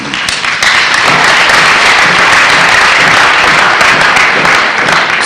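Steady, dense applause from a crowd at a religious gathering, loud and continuous throughout with no pauses.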